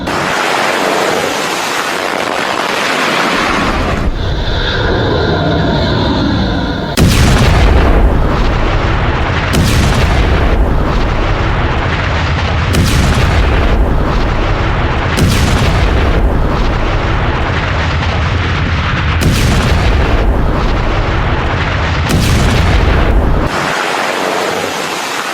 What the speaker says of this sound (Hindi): ईरान ने भी मिसाइल लॉन्च की है।